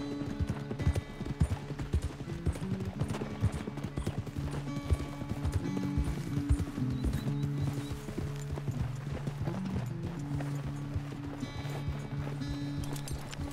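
A horse in the video game Red Dead Redemption 2 walks with a steady run of close clip-clopping hoofbeats, even and rhythmic throughout, with low ambient rumble beneath.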